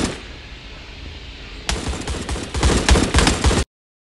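Gunfire in a roleplay video game bursts in abruptly after a quiet stretch, loud rapid automatic shots rattling in clusters before cutting off sharply.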